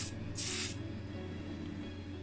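Spray paint hisses from an aerosol can onto a Matchbox 1962 Chevrolet Corvette C1 model car in one heavy coat, with a short burst and then a longer steady burst close to the mic over a low background hum.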